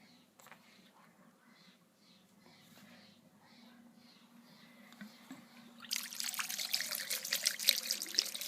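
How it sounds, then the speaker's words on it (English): Water from a hose or tap switched on to rinse dirt off an RC car, quiet at first, then a bright hissing spray that starts abruptly and splashes steadily over the car's surfaces. "And I'll turn on the water a little bit."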